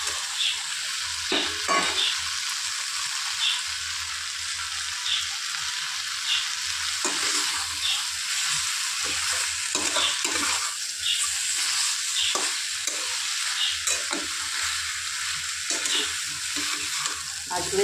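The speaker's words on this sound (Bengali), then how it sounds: "এবার আমার যে ভাজা মাছগুলো আছে সেগুলো দিয়ে আরেকটু কষিয়ে নেব" Pieces of fried fish are stirred into a spice masala in a hot pan, a continuous sizzle broken by repeated scraping stir strokes, close and fairly loud throughout.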